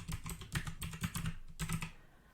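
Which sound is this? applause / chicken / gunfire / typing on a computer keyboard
typing on a computer keyboard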